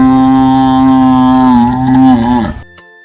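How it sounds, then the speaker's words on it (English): A buffalo gives one long, loud, steady moo lasting a few seconds and then breaks off abruptly, over a bed of background music. "A buffalo says, moo, moo."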